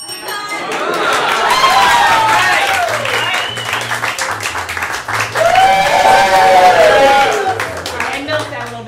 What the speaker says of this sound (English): See, that's why the clapping is so important